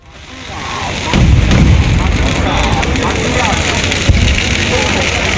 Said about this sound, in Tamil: இதனைத் தொடர்ந்து பிரம்மாண்ட வான வேடிக்கை நிகழ்ச்சி நடைபெற்றது